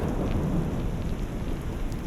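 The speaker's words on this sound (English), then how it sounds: "Sounds like the real storm is getting closer." A thunderstorm with heavy rain, low rumbling thunder rolling beneath a constant wash of falling drops, loud and continuous with no speech.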